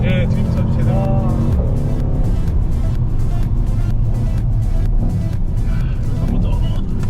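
A car drifts hard at a driving experience, its engine droning loudly and steadily under rushing tire and wind noise, with excited voices mixed in near the start.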